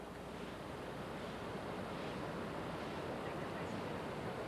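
Victoria Falls roars as a steady, dense wash of falling water with rising spray, heard from the hotel grounds, continuous and unbroken with a little wind buffeting the microphone.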